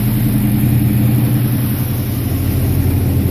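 A 1956 Dodge Coronet with a rebuilt engine runs steadily after a cold start, a loud, close, even idle rumble with constant low throb and no talking.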